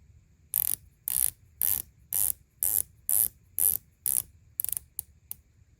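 A coin-edge unidirectional watch bezel with 120 clicks being turned on a San Martin SN0121G dive watch, giving about a dozen crisp, close ratcheting bursts in a steady rhythm, the last few shorter and quicker, with no talk.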